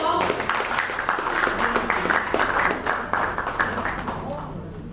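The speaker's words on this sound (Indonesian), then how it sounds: "Tepuk tangan dong." Applause from a crowd at a weekend discussion event, a dense patter of many hands clapping that holds steady for several seconds, then begins to thin out toward the end.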